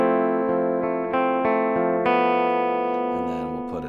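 Electric guitar without a compression pedal, picked as a series of sustained notes that step upward at an even pace and ring out clearly, ending in a brief scrape near the end.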